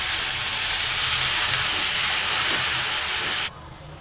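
Bottle gourd greens hitting a hot pan with onion and potato, producing a loud, steady hiss of steam and sizzle that cuts off abruptly near the end, leaving quieter background.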